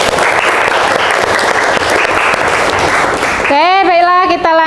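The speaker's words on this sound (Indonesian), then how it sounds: "oke, tepuk tangan dulu." A high school class claps together in a classroom for about three and a half seconds, a dense steady patter, followed by a voice speaking over the room.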